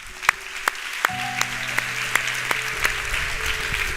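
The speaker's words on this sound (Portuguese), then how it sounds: "Glória, você pode dar uma salva de palmas?" A church congregation claps during a Portuguese-language sermon, with steady rhythmic hand claps about three per second over sustained keyboard-like music tones.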